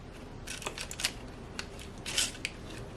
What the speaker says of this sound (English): I'm going to cut a piece and taste it.